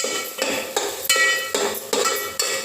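A spoon clinks and scrapes against a bowl while appe batter ingredients are mixed, with steady, repeated knocks about every half second and no voices.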